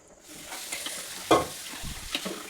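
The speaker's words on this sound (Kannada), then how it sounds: "ಚೆನ್ನಾಗಿ ಮಿಕ್ಸ್ ಮಾಡಿ" Biryani rice mixture with milk and salt stirred in a pot, a few scraping and clattering strokes with one sharper clink midway and a soft sizzle beneath, close and fairly quiet, no voices.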